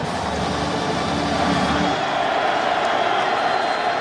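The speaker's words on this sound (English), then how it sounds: "The drama builds, and so does the crowd noise" Dense, steady roar from a stadium crowd at the 2007 Georgia versus Georgia Tech college football game, loud and unbroken throughout, with low rumble thinning partway.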